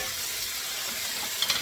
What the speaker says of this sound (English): But you want that sizzle sound